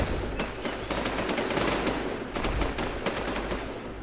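Rapid automatic gunfire from the online zombie survival game WarZ rattles in dense bursts, loud and continuous with short gaps, with no talk over it.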